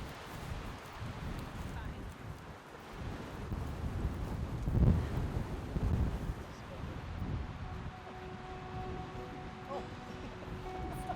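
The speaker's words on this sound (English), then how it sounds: "Something we've noticed pretty quickly out here in Labrador is that it's always windy." Steady wind gusting across open country along the Trans Labrador Highway in Labrador, a broad rushing roar buffeting the microphone, swelling briefly mid-way, with faint voices underneath.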